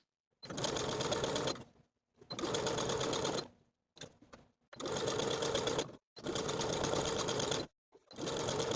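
A sewing machine stitches sleeve facings down to their seam allowance in six short bursts of steady whirring, each a second or so long, separated by brief pauses, close and clear with no talk.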